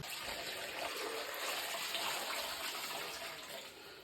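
A toilet fitted with a new siphon flushes in a steady rushing gush of water that stays close and loud for a few seconds before easing off slightly at the end.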